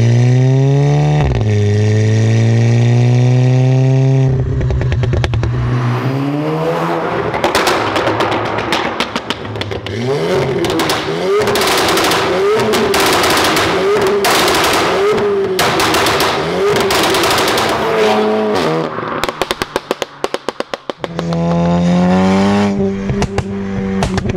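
A tuned 410bhp Audi S3 with a flame-spitting exhaust revs hard and loud, rising and falling repeatedly, with sharp crackling pops from the exhaust between throttle blips and a steady idle at the start and end.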